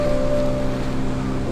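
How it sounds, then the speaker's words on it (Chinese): Sea waves rolling toward a seaside spot near a city skyline, heard as a steady, loud wash of surf blended with wind, with no talking. "我现在面前是大海，我觉得大海挺美的"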